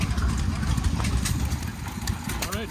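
Hit and miss engines run at a harvest reunion with a steady low chugging idle, close and fairly loud, while people talk nearby.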